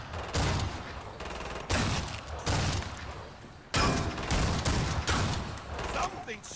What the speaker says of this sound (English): Something shooting at me!